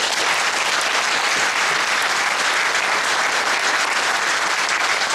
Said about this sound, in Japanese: もう一回大きな拍手を。